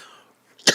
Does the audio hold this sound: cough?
yes